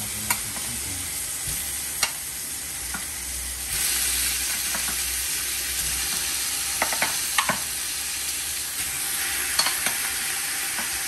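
Chicken thighs sizzle steadily in a pot for tinola while a utensil stirs them, with scraping clicks breaking through the continuous frying hiss, close and clear.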